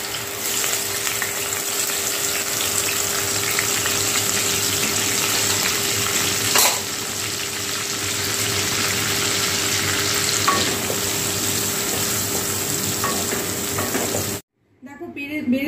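Ginger, onion, garlic and green chilli paste frying in mustard oil, with a loud, continuous sizzle, a clink or two of stirring, and a kitchen chimney fan running, ending abruptly.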